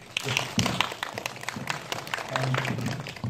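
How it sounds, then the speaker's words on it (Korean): Audience applause at a guest talk after short films at the 25th Bucheon International Fantastic Film Festival, a patter of clapping with distinct hand claps and a faint murmur underneath, rising and falling over three seconds. "큰 응원의 박수 부탁드립니다"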